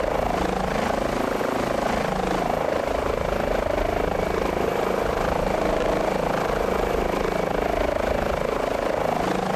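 An HPG H145 helicopter in Microsoft Flight Simulator 2020 runs steadily with a loud, continuous engine and rotor drone and a rhythmic thrum that stays constant throughout.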